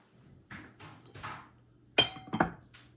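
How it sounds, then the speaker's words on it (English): Close up, a fork scrapes softly through rice a few times, then a metal pot lid clinks sharply twice. "I'm gonna take the lid off. I'm going to fluff it with a fork"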